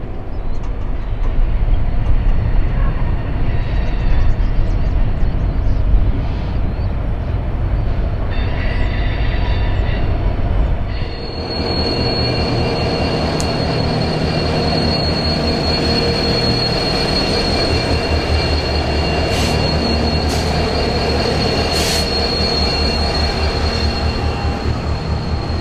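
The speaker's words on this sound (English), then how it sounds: "This CN train has come down from East Dubuque and will head down the Quincy line as far as Bushnell" A CN freight train rolls through the Galesburg rail yard with a loud, continuous rumble of wagons. High, sustained wheel squeals come and go over it, with a sharper shift in the grinding about halfway through.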